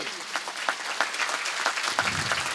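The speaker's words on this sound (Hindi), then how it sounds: "तालियां बजाइए प्रभु के लिए।" A congregation at Holy Mass in a church applauds steadily for a few seconds. Some voices are faintly audible under the clapping.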